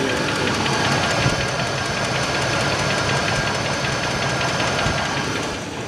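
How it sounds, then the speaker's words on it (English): An idling 1986 Cadillac funeral-car engine runs steadily and loud, with a faint rapid valve lifter tick from low oil pressure threaded through the continuous rumble. "Now you can hear the lifter when it lowers oil pressure."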